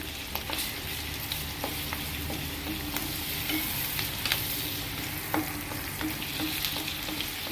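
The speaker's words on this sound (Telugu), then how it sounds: "ఉల్లిపాయ పచ్చిమిరపకాయ అంతా కొద్దిగా లైట్గా గోల్డ్ కలర్ వచ్చేలాగా వేయించుకోవాలి." Bay leaf, onion and green chili frying in a pan for a dondakaya masala curry, giving a steady close sizzle with scattered crackles and occasional light stirring scrapes, no voices.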